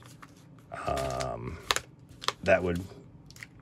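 Painter's tape being peeled off a package, a few short crackling tearing bursts close up, with someone talking in between.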